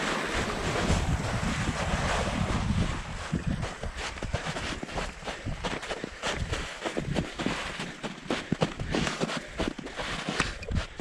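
A mountain creek near Squamish, British Columbia, rushes in a steady broadband wash up close, loud and continuous throughout, with gusts of wind buffeting the microphone.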